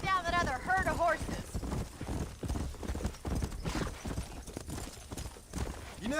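Horses' hooves clip-clop in Red Dead Redemption, a steady patter of several animals on the move beneath game dialogue, with a brief neigh near the start.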